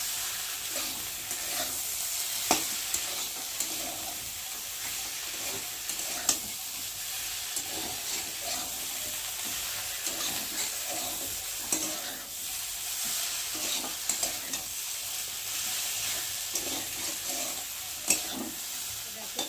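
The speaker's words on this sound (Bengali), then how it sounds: "চলো এখন আমি আবার ভেজে রাখা ভেন্ডিগুলো এর মধ্যে ঢেলে দেবো। দিয়ে ভালো করে একটু ভেজে নেবো।" Okra, fried earlier, tossed back into spiced oil in a pan and stirred: a steady close sizzle with repeated scraping and clacking of a spatula through about twenty seconds, with no one speaking.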